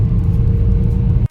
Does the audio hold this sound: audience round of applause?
no